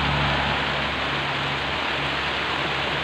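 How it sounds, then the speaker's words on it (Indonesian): Heavy rain pouring down outdoors, a dense, steady, loud hiss of water with no break, filling the whole clip. "Besar sekali hujannya, teman-teman."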